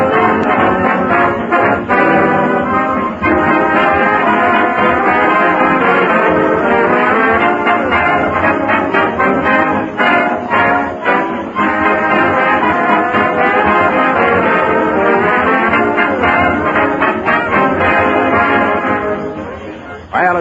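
Radio orchestra music, a full, dense band sound playing steadily and loudly for the whole stretch with no talking over it.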